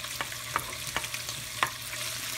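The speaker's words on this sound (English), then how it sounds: "I'm gonna fry some bacon." Bacon frying in a pan on a stovetop, a soft, low sizzle punctuated by a few sharp crackles and spatula scrapes, close but quiet.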